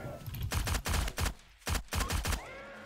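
Hip-fire gunshots in 7 Days To Die Alpha 16: two rapid volleys of about four loud, close shots each, separated by a short pause, with faint talking around them.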